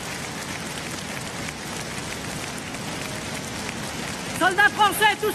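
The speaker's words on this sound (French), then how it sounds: "Vous pouvez les applaudir." Dense patter of a large crowd clapping at a 2017 Marine Le Pen presidential campaign rally in Lille, steady and sustained, with a few shouts or whistles rising near the end.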